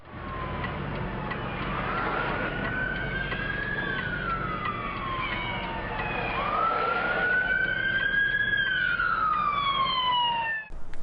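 An emergency vehicle siren wails on a US road, rising and falling in long sweeps, with a second siren tone layered over it and steady road noise underneath, moderately loud and nearby.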